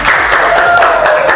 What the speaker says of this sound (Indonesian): Kita beri aplaus kepada semua kelompok dulu ya